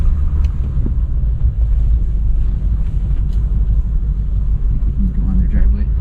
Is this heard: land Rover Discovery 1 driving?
yes